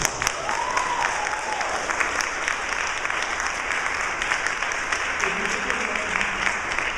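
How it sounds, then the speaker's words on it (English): A lecture audience breaks into a round of applause for the speaker, dense steady clapping from a full room that carries on evenly throughout without pause. "tell the non-Shimerians how great it was with a round of applause"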